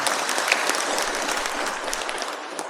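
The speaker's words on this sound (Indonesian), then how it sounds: "Berikan aplaus dong buat Kiai" Steady applause from an audience at an amil zakat training session, a dense wash of clapping hands sustained evenly throughout with no talk over it.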